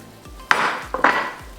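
A utensil scrapes and clinks against a pot while marshmallows are stirred into melted butter, giving two sharp metallic knocks followed by brief scraping, close and fairly quiet.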